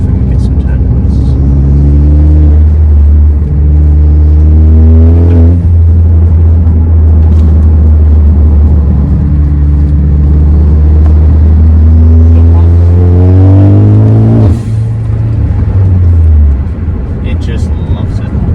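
A turbocharged Ford Focus ST engine revs hard while driving, its loud, droning note climbing and falling through several long pulls and gear changes before settling away near the end.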